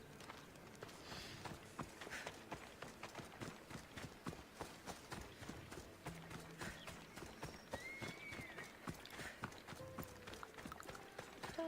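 Horse hooves clip-clopping in Assassin's Creed Odyssey, a steady rhythmic trot running throughout at moderate volume, with occasional snorts and game ambience layered around it.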